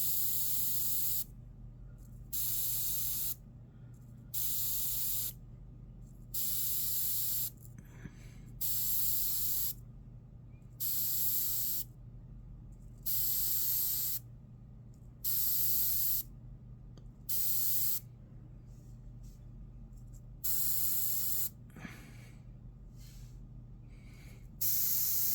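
An airbrush sprays paint on a demon skull, its compressor set around 15 psi, in about a dozen steady hissing bursts of two seconds or so, separated by short pauses over a constant low hum.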